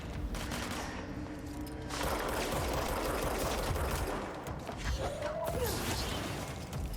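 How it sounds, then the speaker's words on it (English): Rapid bursts of gunfire in the video game Control crackle over a busy background of mechanical clatter and creaks, shots coming in quick clusters. "Gunshots."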